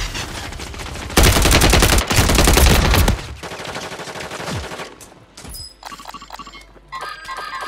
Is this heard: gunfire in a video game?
yes